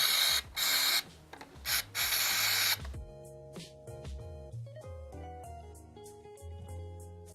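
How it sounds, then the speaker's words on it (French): Several short, sharp hissing bursts of aerosol brake cleaner sprayed onto a motorcycle carburetor come close together, then give way to quiet mechanical clicks and handling sounds. "on va commencer par asperger le carbu de nettoyant en frein"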